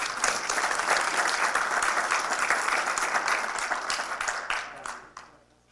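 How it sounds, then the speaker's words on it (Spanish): Sustained audience applause following the introduction of a speaker at a meat-industry pathogen and food-safety talk, steady and dense for about five seconds before tapering off to quiet at the end. "Un aplauso para ella."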